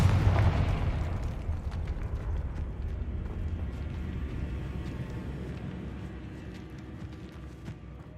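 Confringo explosive spell blast in Hogwarts Legacy: a heavy boom at the start that decays into a long rumbling, crackling tail fading over several seconds.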